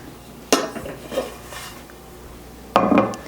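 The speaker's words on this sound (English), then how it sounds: "I'll place the dish upside down and I'll flip the cake out of the bundt cake pan" A bundt cake pan, holding a pistachio chocolate cake, is flipped upside down onto a serving dish. Two distinct metallic clunks mark the turn and set-down, with light scraping and rattling between them, close and with no talking.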